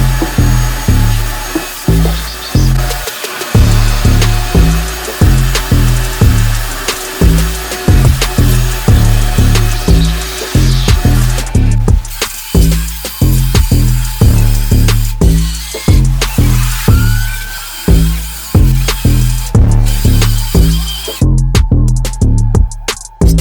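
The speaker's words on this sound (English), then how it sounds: "I just got to clean them up just a little bit with a wire wheel, which is probably what I'm gonna do now." A wire wheel scrubbing Jeep Comanche front axle parts during a rebuild: a loud, harsh, continuous grinding whir that pulses in rapid rhythmic surges as the wheel is pressed on and eased off, close up with no talking.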